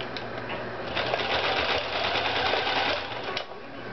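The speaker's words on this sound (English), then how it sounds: "because we're right in front of the sewing machine" A sewing machine runs steadily, stitching T-shirt yarn for a rag rug, with a continuous close mechanical whir that swells briefly in the middle and eases toward the end, heard alone without talk.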